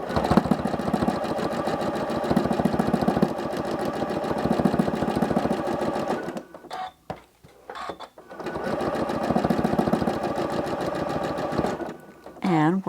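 Sewing machine running steadily for free motion quilting combined with ruler work up a side seam, a close, continuous mechanical whir that pauses briefly partway through before resuming, with a person talking at times.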